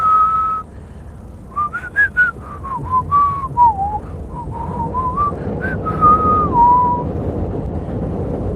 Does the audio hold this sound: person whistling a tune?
yes